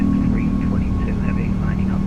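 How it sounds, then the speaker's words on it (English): Jet engines of an Airbus A340-600 wind down as thrust is reduced in Microsoft Flight Simulator, a loud steady low roar and hum with wavering whine tones drifting above it, heard continuously throughout. "That engine reduction sound is just magic."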